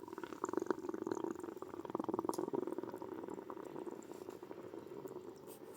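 Quicklime slaking in water gives a steady bubbling and crackling sizzle, like liquid boiling vigorously, with dense tiny pops continuing throughout at moderate volume.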